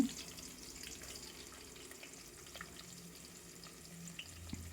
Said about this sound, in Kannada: ಈರುಳ್ಳಿನ ಸ್ವಲ್ಪ ಹೊತ್ತು ಫ್ರೈ ಮಾಡೋಣ